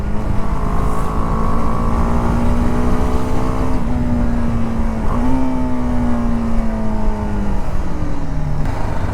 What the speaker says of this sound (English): Certainly it's a rev happy engine.